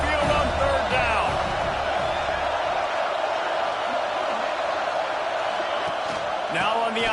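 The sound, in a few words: Alabama Crimson Tide football crowd noise at the stadium on third down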